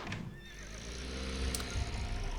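A horse in the Star Stable Online game lets out a whinny near the start, followed by softer snorting and faint hoof sounds under low background noise.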